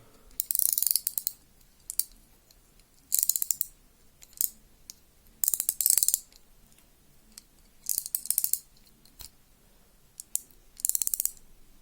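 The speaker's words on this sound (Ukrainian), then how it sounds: "Бачимо, фрикціон працює." Drag on a winter fishing reel gives short bursts of fast ratcheting clicks, about five runs spaced a couple of seconds apart, with faint single ticks between them. Crisp, close and alone, with no voice.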